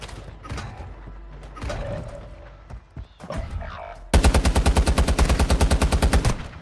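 Rapid automatic gunfire in the mobile shooter Warzone Mobile rings out loud and close in a fast, even burst, following scattered game effects and brief movement noises.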